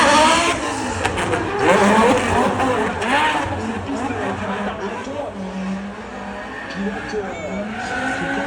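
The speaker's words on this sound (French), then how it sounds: "le son du moteur est exceptionnel" A rally race car on a course in Deux-Sèvres, France, its engine revving and roaring with tire noise, loud and sustained under continuous commentary.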